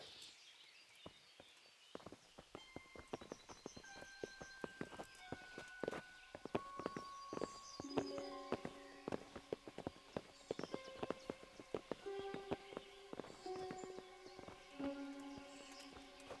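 Horses' hooves clip-clopping in the medieval video game Kingdom Come, several animals walking in an irregular patter over a soft musical score, moderately near and fairly quiet.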